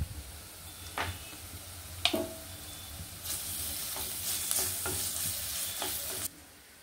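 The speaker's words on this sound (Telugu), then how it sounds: "అల్లం వెల్లుల్లి పేస్ట్ వేస్తున్నాను" Ginger garlic paste frying in a pan with onion and green chillies, a soft sizzle broken by a few spoon scrapes and clicks, then a brighter, louder hiss of frying.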